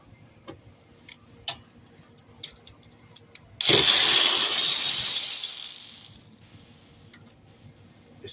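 A wrench works a 14 mm bolt on a 2021 Toyota Camry rear brake: scattered sharp metallic clicks, then a loud, close two-second burst of harsh tool noise that fades out into quiet.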